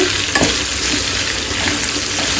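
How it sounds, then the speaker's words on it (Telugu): Ginger and green chillies fry in a pan with carrots and onions, giving a steady close sizzle throughout with a brief stirring scrape near the start, no voices. "ఫస్ట్ అయితే పోపు పెట్టేసి అల్లం, పచ్చిమిర్చి లైట్గా ఫ్రై అయిపోయిన తర్వాత క్యారెట్, ఆనియన్స్ యాడ్ చేసి"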